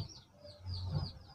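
Chickens clucking faintly near a broken door, a short low cluck over quiet background with some bird chirps, brief and soft.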